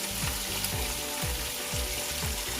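Marinated pork ribs, seasoned with seasoning powder, oyster sauce and a little sugar, deep-fry in hot oil with a steady, close, loud sizzle and a softer repeating churning pattern underneath.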